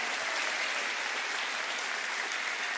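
A church congregation applauds during a worship service, dense, even clapping that fills the space without a break, at moderate volume.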